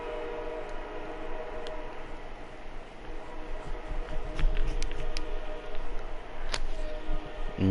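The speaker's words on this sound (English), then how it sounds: "There's a lot of trains going on outside." Trains pass outside during a live esports match broadcast. A low, steady rail rumble carries on throughout, with faint distant horn or whistle blasts rising over it, and no one speaks.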